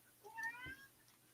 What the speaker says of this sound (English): Yeah, that's my cat, unfortunately.